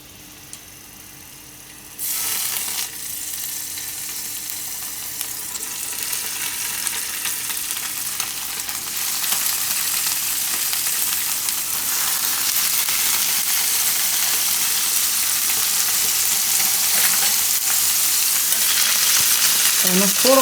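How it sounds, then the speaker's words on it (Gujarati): Paneer drops into hot ghee and starts a loud, dense frying sizzle that begins abruptly after a quiet moment and keeps crackling steadily, growing slightly stronger over twenty seconds. "હવે આમાં પનીર આપણે થોડુંક શેકી લેવું આ રીતે."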